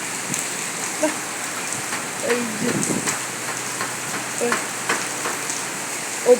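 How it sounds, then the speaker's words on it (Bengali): Heavy rain pours down in a dense, continuous hiss with scattered louder drop impacts, while a voice murmurs faintly now and then beneath it. "কত বৃষ্টি দেখাই যাচ্ছে, কত বৃষ্টি,"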